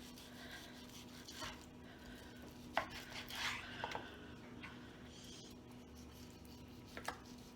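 Faint, sparse knife strokes on a cutting board as meat is sliced thin for a Reuben casserole, scattered soft cuts over a steady low hum, no speech.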